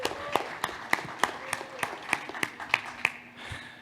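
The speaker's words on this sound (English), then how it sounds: "So without further ado, Petar, Eric, give them a round of applause" A conference audience gives a round of applause for two presenters, heard as sparse, separate hand claps that never build into a dense roar. A faint voice sits under the clapping.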